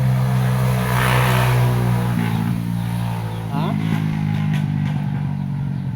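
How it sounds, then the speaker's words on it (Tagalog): A loud motorcycle engine rumbles close by, its pitch rising and falling as it revs, with clattering noise around it. "Ang ingay po ng motor kaibigan."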